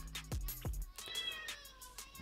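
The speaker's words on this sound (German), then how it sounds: "Die Katze miaut voll, die will hier rein, aber die darf nicht" A cat meows insistently, wanting to be let in: two or three close, loud meows with strong harmonic pitch glides early on, then a softer drawn-out whine trailing off, with no talk over it.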